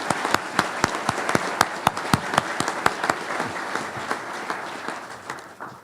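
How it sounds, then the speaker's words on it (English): Co-op members at an electric membership corporation annual meeting applaud, distinct individual claps standing out over a steady ripple of clapping that gradually tapers off. "Let's give Georgia's co-op a round of applause"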